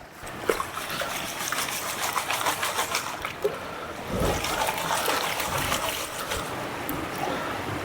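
Water sloshing and washing gravel in a gold pan while prospecting outdoors, a continuous swishing churn with a heavier surge midway, close and steady with no talking.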